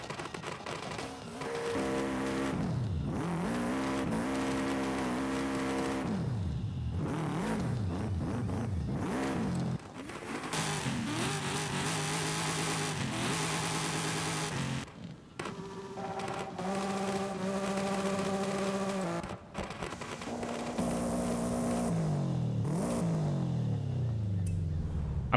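Subaru car engine in the Forza Horizon 5 racing game, revving repeatedly through rising and falling pitch sweeps, with brief drops between pulls, loud and close with no talking.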